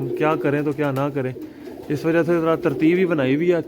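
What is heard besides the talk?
pigeons cooing at a pigeon loft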